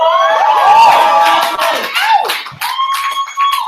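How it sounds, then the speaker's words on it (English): A student audience at a university election forum cheers and whoops loudly, with scattered clapping mixed in; the excited shouts rise and fall before thinning out toward the end. "Please hold your applause till the end."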